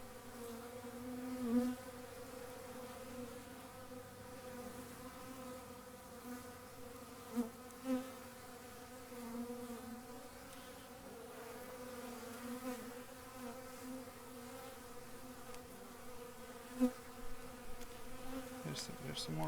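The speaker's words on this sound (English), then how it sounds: "There's some more bees over here too." Honey bees buzz around a hive that is loaded with honey, a constant close drone with occasional louder passes as single bees fly near. No one speaks over the buzzing.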